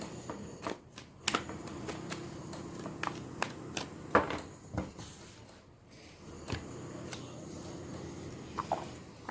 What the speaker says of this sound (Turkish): Tabii ki her zamanki gibi farklı destelerimden kartlar çekmek istiyorum.